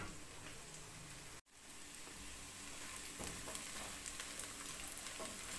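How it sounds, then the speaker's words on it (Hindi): Hot water from boiled peas pours through a kitchen strainer as a steady hissing, splashing rush, briefly broken by a short gap before the flow resumes, with no talking. "ये मटर मेरे उबल गए ने, मैं इसको छान लेती हूँ, पानी को अलहदा कर लेनी है"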